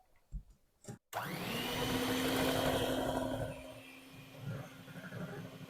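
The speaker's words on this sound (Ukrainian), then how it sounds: "І все збиваю міксером до пишних піків." A brief bump, then an electric mixer whipping cream whirs up to a steady loud drone for several seconds before dropping to a lower running hum.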